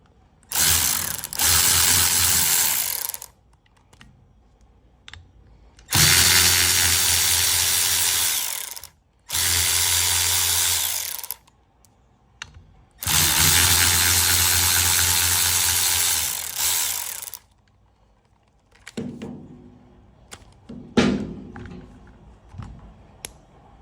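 A power tool whirs in several bursts of a few seconds each, separated by pauses, while clutch cover bolts come out of a KTM 65 dirt bike with a socket, followed by softer clinks and handling noises near the end.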